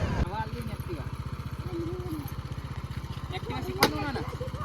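A small Honda Activa scooter engine putters steadily at a low, even throb as it rides along, with faint voices and clatter now and then.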